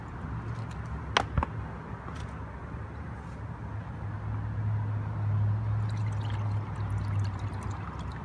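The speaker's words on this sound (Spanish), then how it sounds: "Vamos a colar porque nada más necesitamos lo que es la pura agua." Water from soaked rice streams steadily through a strainer while homemade plant fertilizer is being made, a continuous close pouring wash that swells slightly toward the end, with a couple of sharp clicks early on.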